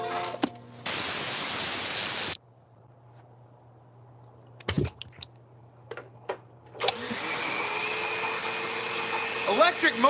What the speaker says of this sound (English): Electric motors, like the ones in blenders, can make electrical noise that looks and sounds just like static.